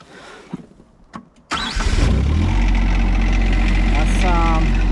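A tractor engine cranks over and fires after a few quiet knocks, then settles into a loud, steady idle with a brief rev near the end, up close in a snowy Wisconsin setting.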